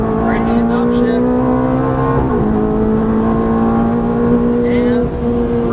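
Ferrari F430 F1 engine on a racetrack, loud and close, revving hard through rising tones with a couple of quick upshifts, and a voice talking over it.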